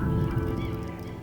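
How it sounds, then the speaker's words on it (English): Migratory waterbirds at a wetland near Delhi honk and call loudly up close, overlapping goose-like cries dense at first and easing slightly, with no talk. "Hundreds of migratory birds of different species visit here every year."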